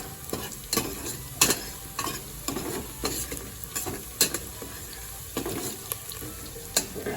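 Garlic and onion sauté in a pan as a base for spaghetti sauce. A low sizzle sits under repeated clicks and scrapes of stirring at an uneven pace.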